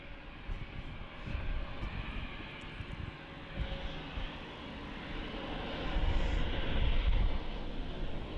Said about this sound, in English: here goes this Turkish A321 Neo off to Istanbul